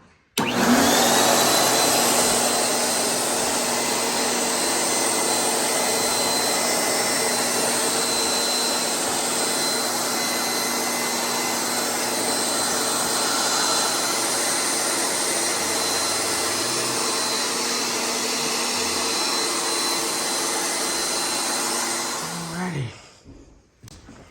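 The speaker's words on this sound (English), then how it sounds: "you guys ain't got one of those air lifters right there to move your appliances around" Air lifter used to move appliances during a floor-flattening and LVP flooring job, a loud continuous blower roar running steadily for over twenty seconds before cutting off abruptly.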